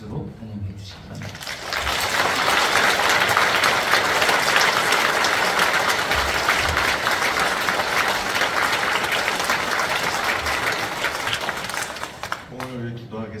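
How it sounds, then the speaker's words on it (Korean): A church congregation at a special Thanksgiving dawn prayer service applauds to welcome a guest pastor, a dense, sustained burst of clapping swelling after a brief spoken lead-in and fading near the end as a voice returns. "박수로 환영해 주시기 바랍니다"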